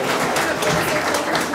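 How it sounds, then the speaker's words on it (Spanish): Conference audience applauding a speaker, a dense steady wash of many hands clapping for a short burst, moderately loud and without talk over it. "fuerte aplauso de favor para Daniel Caray."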